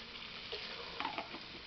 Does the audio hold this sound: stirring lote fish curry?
yes